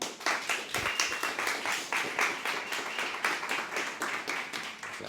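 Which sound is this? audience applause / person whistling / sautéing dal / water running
audience applause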